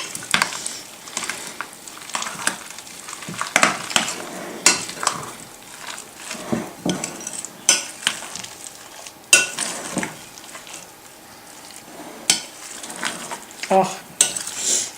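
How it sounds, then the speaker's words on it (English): Crab dip ingredients mixed in a bowl, repeated scraping and clinking strokes of a utensil against the bowl in an uneven rhythm, close and moderately loud, with occasional faint talk. "Get all that mixed together."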